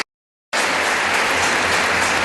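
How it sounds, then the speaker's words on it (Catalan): An audience in Llíria applauds players at a Bancaixa final match, bursting suddenly out of silence into dense, loud, sustained clapping that continues steadily. "I la gent que no para d'aplaudir."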